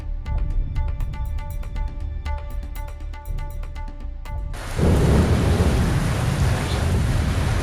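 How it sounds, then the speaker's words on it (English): Heavy rain outside a hotel in Nepal bursts in as a loud, steady broadband downpour about two-thirds of the way through, following a quieter stretch with faint tonal sounds; no distinct thunder clap stands out. "it's raining, so I'm not suffering the rain in my tent"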